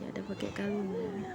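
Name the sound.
cat meowing for food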